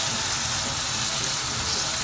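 Chopped tomatoes and onions fry in a pan for chickpea and potato rice, giving a steady, close sizzling hiss that holds evenly throughout and ends in a brief clatter.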